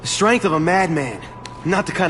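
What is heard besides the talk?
No everyday noises stand out.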